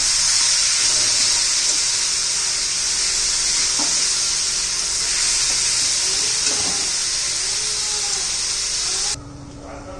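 Onion and tomato with salt sauté in a pan until soft, a loud continuous hiss of frying with faint stirring touches, steady for most of the time before cutting off abruptly near the end.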